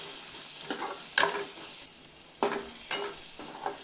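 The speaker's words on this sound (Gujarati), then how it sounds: "ડુંગળીને આપણે થોડી વાર માટે સાતળી લેવાની છે" Chopped onion sautéing in a pan with a spatula for a semolina snack: a few sharp scraping strokes at irregular intervals over a faint, steady sizzle, close and moderately loud, with no talking.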